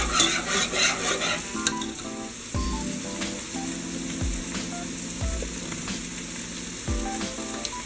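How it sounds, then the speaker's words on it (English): Spoon stirring coconut curry fish stew in a pot on low heat, steady close scraping and sizzling with occasional clinks against the pot, no voices. "I'm going to go back in and stir it so it doesn't stick."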